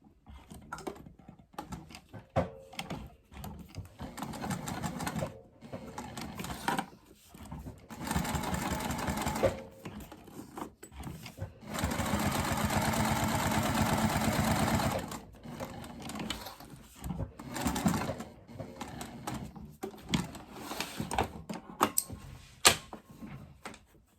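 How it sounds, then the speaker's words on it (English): A sewing machine stitches a crossbody bag in stop-and-start runs, its fast needle hum rising in bursts of a few seconds with clicks and handling noises between, close by and without talk. "you're gonna sew from the right side, and I'm gonna start over here, and I'm gonna sew up, across, and back down"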